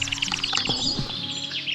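A baby crow calls loudly and close by, a continuous run of harsh, high chirping cries over roughly two seconds with no pauses and no talking.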